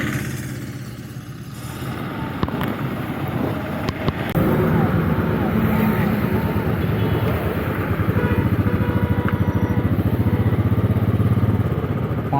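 A Royal Enfield Bullet motorcycle on a highway ride from Kolkata toward Varanasi, its engine thumping steadily under loud wind rush, the drone rising slightly partway through, with a rider talking over it.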